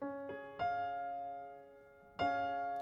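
Piano notes struck in a few separate attacks, sustaining and blending into a bright, ringing chord that fades between strikes.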